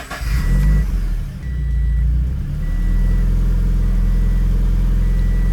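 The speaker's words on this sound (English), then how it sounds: "Okay, so start engine." A car engine in hot weather turns over and settles into a steady, loud, close idle with a deep continuous rumble that holds to the end.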